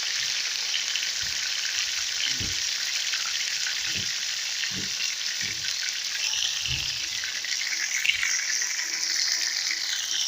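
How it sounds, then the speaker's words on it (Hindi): Marinated chicken pieces sizzling in hot oil in a small pan for Chicken Changezi, a steady broadband fry hiss with scattered pops and crackles over about ten seconds, close and continuous with no speech. "तो जो हमने चिकन मैरिनेट करके रखा था, अब उसको हम हल्का सा फ्राई करेंगे।"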